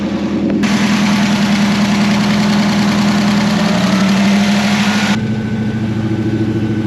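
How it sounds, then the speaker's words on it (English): Engine of a 1972 Chevrolet Nova idling steadily after a timing adjustment, a loud close rumble with a lumpy, slightly uneven beat that shifts tone partway through, no talking. "when we throw it in gear, it lugs a little bit, and it's bringing the RPM down a little bit too much"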